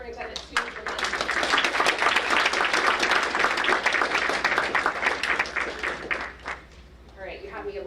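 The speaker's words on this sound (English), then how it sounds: "one last round of applause for our January Superintendent Student Promotion." Applause for a student recognition at a school board meeting, a room full of hands clapping steadily and fairly loud for several seconds before thinning out, with a few voices at the end.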